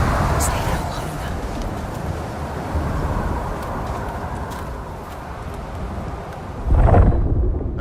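A thunderstorm rumbles through the video game Unknown 9: Awakening with a sandstorm whipping around, a continuous roar of wind and rain with a heavy thunder crack near the end, while characters speak over it.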